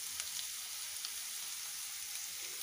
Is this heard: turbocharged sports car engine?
no